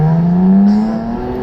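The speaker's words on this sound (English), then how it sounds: "actually getting that exhaust and engine note to go" A 2021 BMW M3 Competition held in a low gear, its exhaust and engine note climbing in pitch as it revs, loud and close with a smooth rising drone over about a second and a half.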